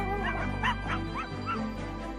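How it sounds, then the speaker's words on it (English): A cartoon dog gives a few short, bright barks and yips in a playful rhythm, close and clear, with a steady low hum beneath. ""Come on," barks Rainbow Dog"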